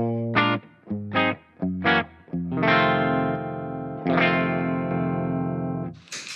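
Electric guitar through a NUX boost pedal with a thick, driven tone: three short stabbed chords, then two long sustained chords ringing out, fairly loud and alone.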